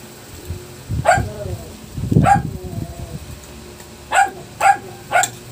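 A dog named Marvel barks five times at close range, first two spaced single barks and then three quicker ones in a row, with a person talking in the background.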